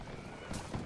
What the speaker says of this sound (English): The cavalry will charge at this point.